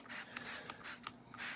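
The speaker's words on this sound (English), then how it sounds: "so I just figured I'd give it a good quick spray down" An aerosol can of furniture polish and cleaner sprays in a quick series of four or five short hissing bursts, close and fairly soft.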